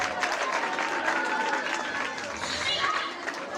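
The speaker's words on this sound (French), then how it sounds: "est-ce qu'on peut applaudir pour les résultats au primaire?" A school audience applauds primary school exam results at an awards ceremony, with dense clapping and crowd noise filling the room throughout the short stretch.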